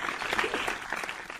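An audience claps after a university lecture on higher education; brief, moderately loud applause with distinct individual claps, fading slightly within a second or so.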